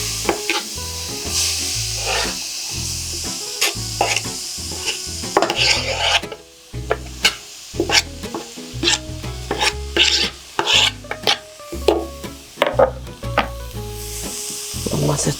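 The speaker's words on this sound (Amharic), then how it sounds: "አሁን ሽንኩርታችንን መጥበሻችን ላይ ማድረግ እንችላለን።" Chopped onions fry in a pan with a steady sizzle, broken by regular scraping clicks of a stirring spoon against the metal. The sound is close and continuous, with no talking.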